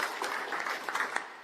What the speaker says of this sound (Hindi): ताली बजाओ, गोल्ड मेडल जीती है।